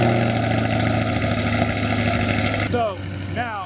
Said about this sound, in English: one of the last few Sport Cat exhaust sounds you're gonna get from this Corvette.